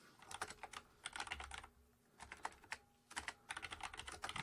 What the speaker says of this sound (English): And then maybe you type out a template.